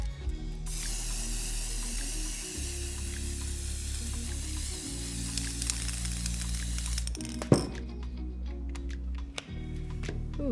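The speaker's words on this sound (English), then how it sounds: "I have a chrome, silver, very metallic spray paint here." Chrome silver metallic spray paint hisses steadily from an aerosol can for about six seconds while customizing AirPods Pro cases, then stops, leaving a few faint handling clicks.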